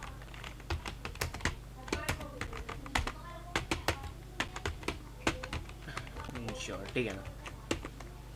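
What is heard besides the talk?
typing code on a computer keyboard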